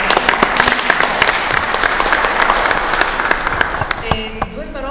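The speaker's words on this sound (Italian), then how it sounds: "Intanto daremo un applauso." An audience at a Baroque-and-beyond concert event breaks into loud, sustained applause, dense and close, with voices rising beneath the clapping toward the end.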